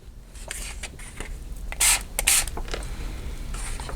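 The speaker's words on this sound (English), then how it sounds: "I'm just going to go ahead and directly spray on the cards" Yellow spray paint hisses from a can onto handmade journal cards in two short, loud bursts, with softer rustling and handling sounds between them.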